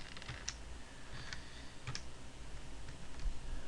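Someone types on a computer keyboard with sparse, close keystroke clicks spaced unevenly over a low background hum.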